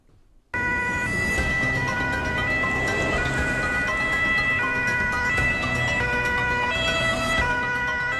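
An ambulance siren from a private ambulance company's fleet wails steadily and loudly, with wavering tones holding for several seconds after starting abruptly, with road traffic rumbling underneath and no talking.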